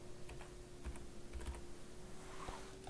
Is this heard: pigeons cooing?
no